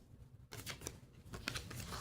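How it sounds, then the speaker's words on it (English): A deck of Uno No Mercy cards is shuffled by hand, with quiet riffling and flicking bursts after a brief silence, a few soft papery snaps close by, and no talking. "we shuffle the deck and draw 7 cards to each player"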